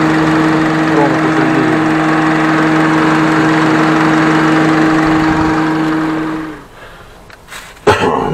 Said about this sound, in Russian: Тихо-тихо движок работает